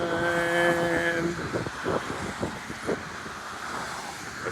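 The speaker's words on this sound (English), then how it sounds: "It's approaching its speed, V1 speed, where it lifts up the landing gear and goes up in the air." A Frontier passenger jet at BWI airport accelerates down the runway for takeoff, a broad roaring rush mixed with wind noise and a high whine early on, heard at a moderate distance with steady loudness.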